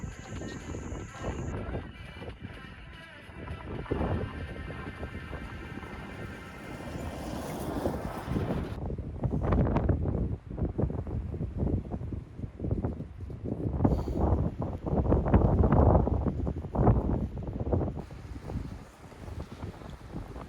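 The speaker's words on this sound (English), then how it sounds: "the night was dark and windy" A dark, windy night beside a lagoon, with strong gusts buffeting the microphone in continuous roaring waves that swell louder through the middle and carry no voices.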